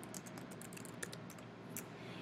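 Quiet, close typing on a computer keyboard as a heading is entered into a Google Docs document, with rapid irregular key clicks running for a couple of seconds and no talking.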